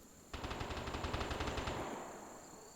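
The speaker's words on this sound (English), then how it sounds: "But I hear those gunshots too." A burst of rapid automatic gunfire in the video game Vigor, a steady stream of shots that holds at close range for about a second and a half before trailing off into a fading echo.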